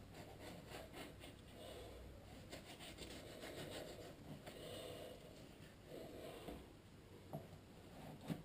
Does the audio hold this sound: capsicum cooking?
no